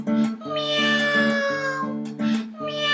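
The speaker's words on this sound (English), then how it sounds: "The cat goes meow," A cat meows in long, drawn-out cries over steady sustained tones, part of a children's song about animal sounds; several close, loud calls follow one another.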